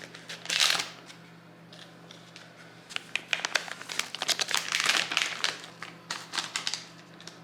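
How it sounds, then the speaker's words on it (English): Scissors snip open a packet from a red velvet cupcake baking kit, giving close, crinkly rustling bursts of plastic packaging that come and go over several seconds with no talking. "I'm gonna use my scissors because if you guys know, I'm not good at opening things."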